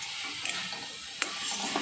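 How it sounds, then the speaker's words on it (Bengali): Spice paste with chilli powder is sautéed and stirred in a pan of hot oil, giving a low steady sizzle with scattered scraping and clinking strokes at an unhurried pace. "মশলাটা ভালো করে এবার কষিয়ে নিচ্ছি"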